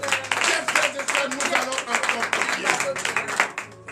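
A congregation at a Wednesday morning prayer service in Benin claps in quick, lively, uneven bursts, with voices calling out underneath.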